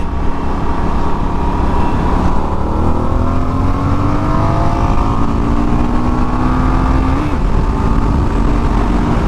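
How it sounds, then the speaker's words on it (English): Motorcycle engine held in third gear, loud and close, revving with a steady rising drone that climbs in pitch as it accelerates, then drops off briefly near the end. "We're on that third gear right here, and let's give it some juice here in a sec."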